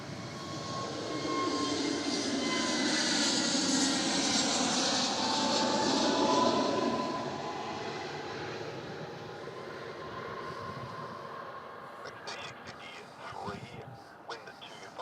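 Jet engines of an aircraft holding short of the runway at Melbourne Airport rumble in a loud, sustained roar that gradually fades, with clicks and faint chatter toward the end.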